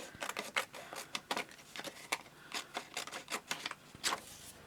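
Card-making paper being cut down with a run of quick, crisp snips and paper rustles in an uneven rhythm, close and quiet, with no speech.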